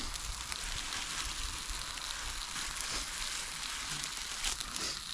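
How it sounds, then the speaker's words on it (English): Burgers and big sausages sizzle in a pan over a camp stove at a solo wild camp, a quiet, steady crackling hiss that continues evenly throughout with no talking. "And there's two burgers. Right, I'm sizzling away."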